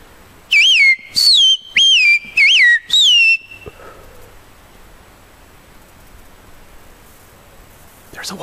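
Five short, loud whistle blasts with a warbling rise-and-fall pitch ring out in quick succession on a ridge during a hike, followed by quiet outdoor ambience and faint rustling.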